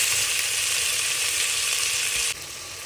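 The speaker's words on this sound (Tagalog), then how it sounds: "So haluin lang natin yan guys." Tomatoes, garlic, onion and ginger sizzling as they are stirred in a hot pot for sinigang, a loud steady close frying hiss that drops in level abruptly near the end.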